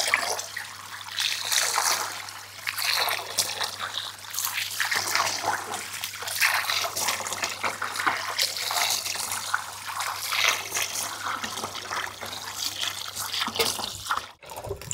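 Finely chopped tuber is rinsed in water while a Tamil home recipe is prepared, producing a constant close sloshing and trickling with splashy swells that stops abruptly near the end.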